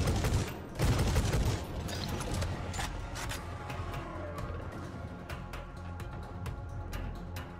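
Gunfire in Necromunda Hired Gun, a dense burst of rapid shots at the start followed by scattered sharp reports and mechanical clatter, fairly loud and with no talk.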